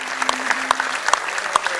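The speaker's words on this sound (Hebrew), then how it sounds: "I want to salute the soldiers and I want us all to give them a big hand" An audience at a lifetime achievement award ceremony claps for soldiers: dense, steady applause from many hands, moderately loud and continuous throughout, with faint tonal sound underneath.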